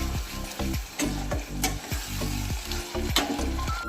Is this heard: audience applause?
no